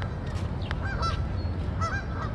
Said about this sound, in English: We're gonna give you more gooses, okay?